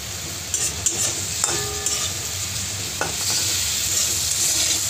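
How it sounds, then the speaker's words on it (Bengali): Turmeric, spices and a small green chilli fry in a pan for a tilapia fish curry with chalta, a steady sizzle broken by a few clinks and scrapes of a stirring utensil. "একটু সময় ভালো করে ভেজে নেব।"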